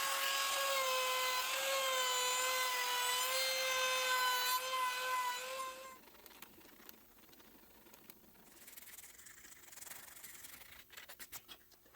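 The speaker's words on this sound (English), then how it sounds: "Now I can finish shaping and sanding the grips." Sanding the wooden grips of a hunting slingshot handle: a steady, loud tonal motor whine for about six seconds gives way to quieter, uneven scratchy rubbing against the wood.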